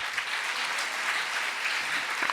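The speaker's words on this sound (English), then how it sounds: "please clap" An audience at a spiritual talk on education claps in a dense, steady wash of applause that holds for a couple of seconds at moderate loudness, with no voices over it.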